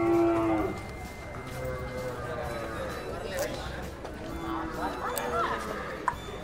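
Water buffalo (carabao) at a livestock market give a low, drawn-out moo near the start, followed by steady crowd chatter and market bustle with occasional clatter.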